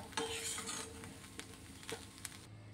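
Poha with coriander is stirred in a pan, with a soft frying hiss under repeated clinks and scrapes of a spoon against the metal, close and quiet.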